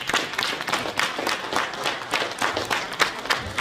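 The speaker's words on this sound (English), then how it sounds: "let's give them all a big round of applause" Audience applause at a mayoral candidates forum in Birmingham, a steady dense patter of many hands clapping from a room full of people for a few seconds.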